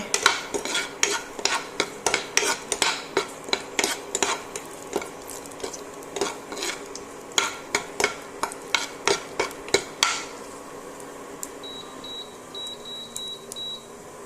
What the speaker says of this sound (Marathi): पयलीं ड्राय फ्रुट्स मातशे फ्राय करपाचे, भाजपाचे।